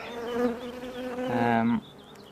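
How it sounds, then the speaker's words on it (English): Loud, steady buzzing of honey bees close up at an open hive, several bees including drones droning together with a rising, thicker hum near the end before it drops away. "We've got drone bees up the top."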